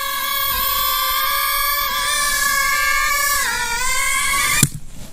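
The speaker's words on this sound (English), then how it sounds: "that crack sound you hear is just because the prop stopped in the frozen cold" An RC130W drone's propeller motor whines steadily and close by, then a sharp crack rings out as the prop stops in freezing cold, and the whine cuts off.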